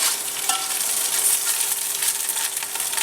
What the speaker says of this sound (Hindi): ये देखिए चर्बी ने अपना ऑयल छोड़ना शुरू कर दिया